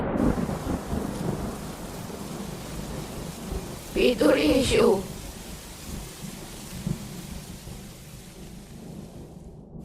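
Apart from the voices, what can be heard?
heavy rain and thunder in a cartoon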